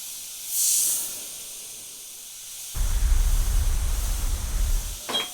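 An airbrush with its air cap removed sprays air in soft hissing bursts: a brief faint puff, then a louder steady rush of air near the end, close and with no speech.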